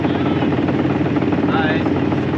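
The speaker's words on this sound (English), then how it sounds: "fingers crossed the engine seems to be running all right now" A sailboat's engine runs after an impeller repair, giving a steady, loud mechanical drone with a continuous low rumble throughout.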